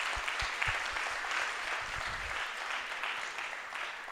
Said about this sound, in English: just a big round of applause again for Ria and Andrea